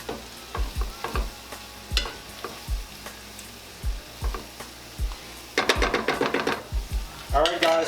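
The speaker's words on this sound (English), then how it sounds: "We're not boiling food, we're pan frying it" Seafood sizzles as it pan fries for garlic bread, with a steady hiss beneath repeated knocks and scrapes of a utensil stirring against the pan, louder clattering toward the end.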